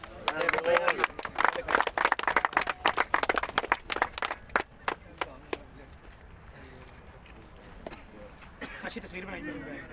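Audience claps at a cricket prize distribution ceremony, a burst of dense, sharp applause up close that thins into scattered claps and fades while voices murmur in the background.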